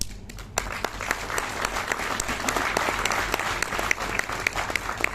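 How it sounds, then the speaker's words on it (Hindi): Audience applause at a business plan presentation, a dense steady clapping from a large crowd that carries on for the whole stretch without any talk over it. "अभी तो ताली बजा रहे हैं"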